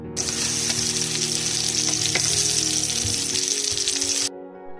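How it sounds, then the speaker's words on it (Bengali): Bitter gourd slices fry in hot oil in a pan, giving a steady, close sizzle that holds evenly for about four seconds and then cuts off abruptly. "আর এইখানে করলা ভাজাটা হচ্ছে"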